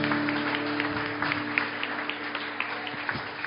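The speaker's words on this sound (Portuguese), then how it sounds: "Dê uma salva de palmas a Jesus." Applause in a church service, a congregation clapping steadily with scattered louder claps over a low sustained organ or keyboard tone, moderately loud and continuous.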